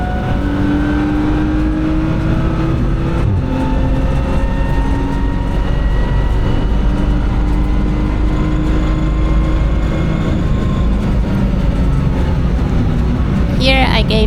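A race car blasts down the main straight of a track on a wet day, its engine roaring loud and close from inside the cockpit, the pitch climbing steadily through the gears over a constant rushing drone.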